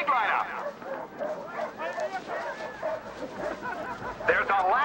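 Sled dogs yip and bark excitedly in a lineup just before the start of a sled race, a busy chorus of overlapping calls and whines running throughout with talk over it.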